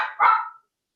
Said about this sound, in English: the barking in the background